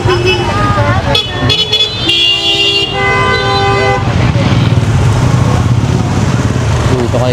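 Busy street traffic at the Divisoria street market in Manila, with several car horns tooting in bursts, some long and steady, over a constant engine and crowd rumble, while people talk nearby.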